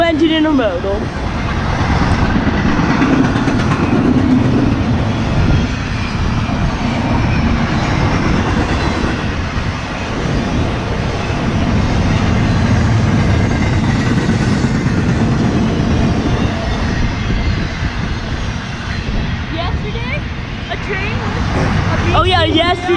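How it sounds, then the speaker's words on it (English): A CSX intermodal freight train led by two locomotives rolls past in Erie, Pennsylvania, a steady loud rumble and rattle of cars running the whole time with a person talking over it. "2 engine intermodal."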